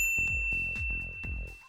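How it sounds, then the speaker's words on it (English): Bright notification bell dings struck in a quick repeating sequence, each ring decaying with a resonant tail, clear and close with no talking. "ring the bell to be notified about our latest videos."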